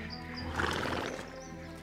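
A horse whinnies amid a dense, busy period-drama soundscape, the neigh rising loud and close for about two seconds over a steady layered background without clear speech.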